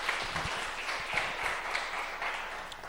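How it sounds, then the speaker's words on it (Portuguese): A church gathering's audience claps in sustained applause, a dense wash of many hands with a few distinct nearby claps, moderately loud and even throughout. "Pode aplaudir."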